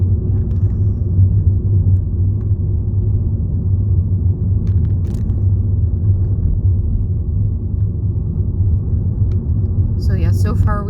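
Car driving on a road in northwest Connecticut heard from inside, a steady low engine and tire rumble throughout, with a person talking over it.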